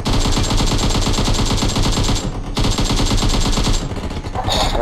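Dense, loud automatic gunfire from PUBG Mobile war mode, with rapid bursts that rattle almost continuously, break off briefly, then resume before a short pause near the end.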